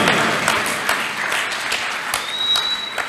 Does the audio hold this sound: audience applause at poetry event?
yes